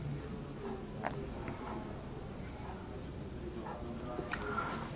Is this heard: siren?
no